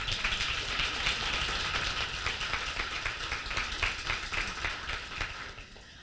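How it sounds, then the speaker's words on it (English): Applause from a live audience at a gathering in an event space, a dense, steady patter of many hands clapping that holds for several seconds before tapering slightly near the end. "if you can please help me thank them by your applause"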